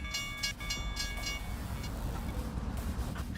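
A train rolls past a crossing in the trucking game American Truck Simulator, a steady loud rumble of railcars with bright horn or bell-like tones sounding in bursts over it.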